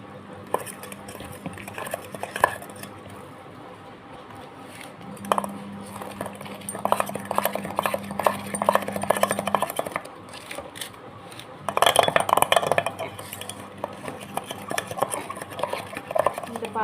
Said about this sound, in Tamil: பால் ஊற்றி மிக்ஸ் பண்ணி எடுத்துக்கலாம்.